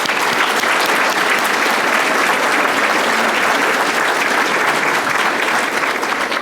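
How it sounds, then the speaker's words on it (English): Loud, dense audience applause fills the whole stretch, steady and sustained at a public event honoring an Illinois Supreme Court justice, with no speech over it. "everybody should clap for the Kennedy Forum Illinois back there"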